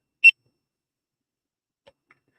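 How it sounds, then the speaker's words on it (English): A single short, clear electronic beep from a camera being adjusted, followed by a couple of much fainter ticks, in an otherwise quiet room. "I know y'all are probably hearing the beep."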